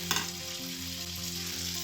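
Appam batter fries in a pan of hot oil, giving a steady close sizzle with a brief stirring clatter at the start and a low hum underneath, with no talk.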